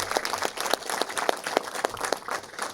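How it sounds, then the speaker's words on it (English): A modest group at a 2016 city comptroller press conference applauds, a loose patter of separate claps from a smallish crowd, fairly close and continuous for under three seconds. "let's give Jessica a round of applause as well"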